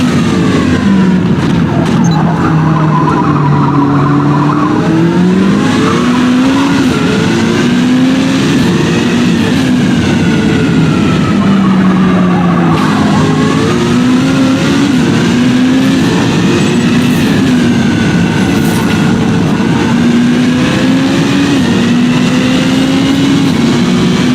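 Race cars in the video game Forza Motorsport roar continuously at high volume, engines rising and falling in pitch through gear changes during a lap, with a voice talking over the engine noise.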